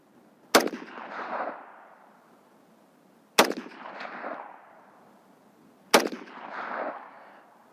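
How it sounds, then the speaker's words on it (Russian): Three rifle shots fired at a target during a test of a WestHunter HD 1-6x24 IR scope at low magnification: sharp, loud cracks spaced evenly about three seconds apart, each trailing off in a rolling echo. "И делай в левую мишень. Делаешь 3 выстрела."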